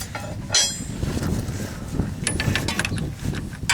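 Socket ratchet turning the crankshaft of a frozen 1978 Dodge 440 cubic inch engine, a close series of metallic clicks and clanks with scraping, irregular and fairly loud, with no talking.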